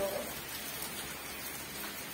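Heavy rain pours steadily outside a village house near a mango tree, an even, unbroken wash of drops, with a short voice at the start.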